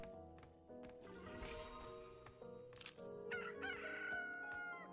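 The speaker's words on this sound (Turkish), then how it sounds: "Tavuğun sesinden de anlayacağınız üzere" Rooster crowing at daybreak in the colony-building game Stonehearth, a few clear crows over a soft bed of game music and ambient tones, moderately close.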